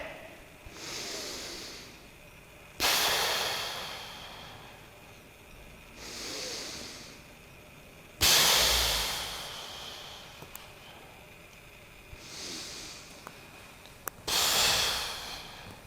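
Slow, deep breathing from a person lying on their back with a roller between the knees: long, close, airy inhales and exhales in a calm, repeating rhythm, with quiet pauses between breaths.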